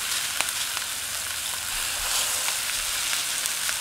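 Salisbury steak patties frying in a crowded pan, giving a steady bright sizzle with occasional small pops and crackles, close and continuous, with nobody speaking.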